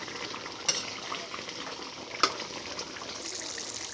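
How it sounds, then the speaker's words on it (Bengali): White chicken bhuna curry is stirred in a pan, with a soft, steady sizzle and bubbling broken by two sharp clinks of the spoon against the pan. No one speaks. "নাড়াচাড়া করে নিই।"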